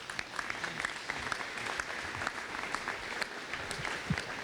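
A crowd at an aviation rally in Grand Forks, North Dakota gives a standing ovation, steady fairly faint applause with scattered sharper claps throughout, no voices on top.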